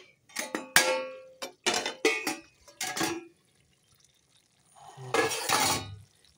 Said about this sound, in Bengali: দেখো এখন ঢাকাটা তুলে নিচ্ছি